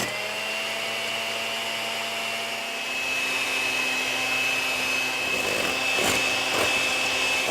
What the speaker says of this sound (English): we are going to go ahead and beat them until we get some soft peaks up